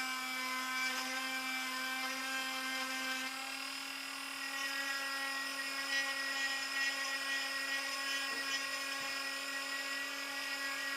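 A rotary tool fitted with a carbide cutting bit grinds a small flat spot on the eye of a cast wood duck for taxidermy, producing a steady high-pitched whine close by with a few slight dips in load.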